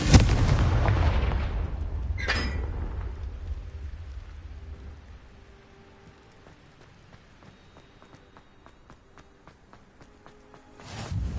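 Confringo fire-blast spells burst in Hogwarts Legacy, a heavy booming explosion at the start, a sharp crack soon after, then a fading rumble, quiet ticking, and another blast at the end.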